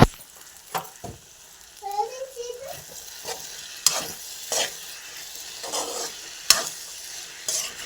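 Okra curry cooks in a pan while a spoon scrapes and stirs it in irregular strokes, soft simmering sizzle underneath, with faint background voices.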